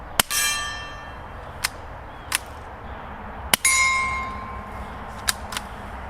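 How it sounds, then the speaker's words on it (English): A subsonic .22 LR round fired through a WhisperStrike suppressor strikes a steel gong, producing several sharp metallic clangs with ringing tails over a steady background hiss, loud and fairly close. "Let's do one at the gong."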